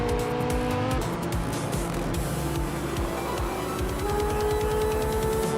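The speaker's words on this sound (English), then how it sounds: "1985 Lancia Delta S4 Stradale, known for its turbocharged power and rally heritage." A 1985 Lancia Delta S4 Stradale, a turbocharged rally car, racing in a video game, its engine revving hard and shifting steadily, loud and close throughout, with tire squeal and no talk.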